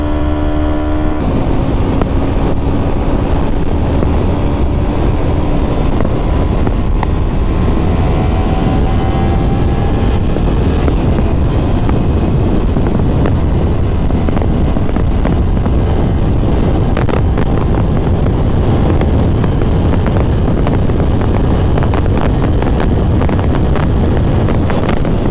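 A Kawasaki Ninja 300 motorcycle ridden at top speed, its engine drone buried under heavy, constant wind roar across the microphone, with a rising engine pitch early on as it pulls through the gears.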